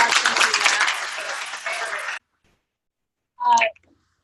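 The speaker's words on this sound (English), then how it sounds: "Let's give Matt a round of applause" Brief round of applause from a faculty workshop audience for a presenter, a dense patter of clapping lasting about two seconds before cutting off, followed by a short voice.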